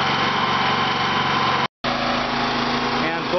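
A Champion 5000W generator converted to natural gas runs steadily under a heater load of roughly 2,500 watts, a loud continuous engine drone with one very brief dropout partway through.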